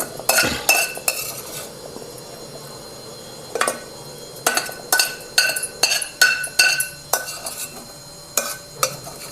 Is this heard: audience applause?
no